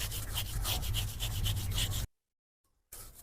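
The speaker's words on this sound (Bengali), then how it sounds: "এভাবে ডুমুরের পাতা দিয়ে মাছটা সুন্দর করে ঘষে ঘষে কালোটা থাকে সেটা উঠিয়ে নেবে" Fig leaves rub and scrape over the skin of a silver carp to clean off the dark layer, a steady rasping scrub for about two seconds, a brief silence, then the rubbing starts again.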